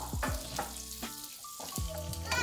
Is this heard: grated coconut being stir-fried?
yes